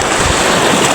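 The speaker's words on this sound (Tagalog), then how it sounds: "kasi malakas yung alon" Loud, broadband rush of strong ocean surf, constant and close, with wind buffeting the microphone and no voices.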